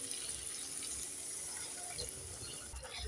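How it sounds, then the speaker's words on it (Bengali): A little water is poured into a pan of Bengali aloo dum, a potato curry, while it cooks. A faint, continuous trickling gush runs steadily for a few seconds with no talk over it. "এবার আমি দিয়ে দেব অল্প জল,"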